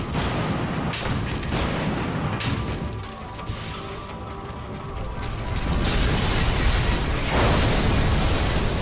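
A loud detonated charge in the shooter game Vanquish booms out, a sustained blast with mechanical clatter and crashing debris, dipping briefly midway before a second heavy wave of rumbling noise.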